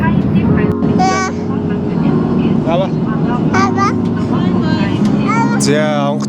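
Steady, loud airplane engine drone fills the cabin as the aircraft prepares to land, a constant broadband roar running throughout while people talk over it.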